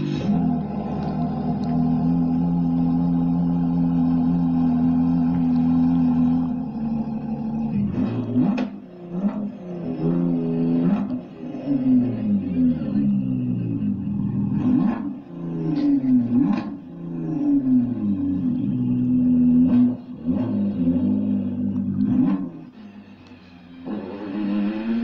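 A Ford GT's engine note plays through a smart speaker, a steady loud drone with rising and falling revs and throttle blips building through the middle, continuous for about 25 seconds with no talk.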